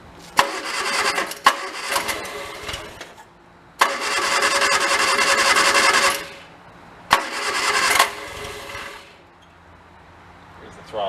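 A 1965 Hillman Imp with its choke on cranks and fires in three separate loud bursts, each running roughly two seconds before dying away, with sharp transients as it catches and a quiet gap between attempts.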